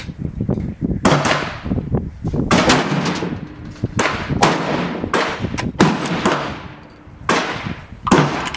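Savage 111 Trophy Hunter XP bolt-action rifle in .30-06 firing at a range, a loud sharp report repeated as several shots spaced a second or two apart, each with a booming tail, with people speaking in between.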